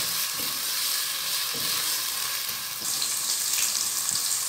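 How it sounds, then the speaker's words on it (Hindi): Onions frying in oil in a pan for fish biryani, a bright steady sizzle close by with occasional soft stirring scrapes and no talk. "बस अब हमने इसको अच्छा सा भूनना है।"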